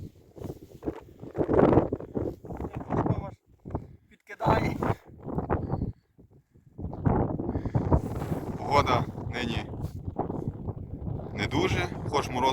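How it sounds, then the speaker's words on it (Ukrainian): Blustery wind carrying snow buffets the microphone in strong gusts, roaring over a voice talking nearby, with a brief lull midway, during winter pike fishing. "дуже вітер і сніг такими поривами, що здуває все підряд"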